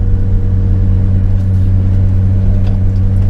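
A 1988 BMW iX engine pulls hard under acceleration on a drive, a loud, steady low-pitched drone and rumble filling the cabin with no letup.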